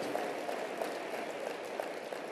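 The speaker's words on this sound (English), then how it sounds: "Give yourselves a round of applause for giving people another shot, another chance." A large audience at a motivational speaking event breaks into steady, dense applause, a continuous wash of many hands clapping that sounds distant and fairly faint, with no voices on top.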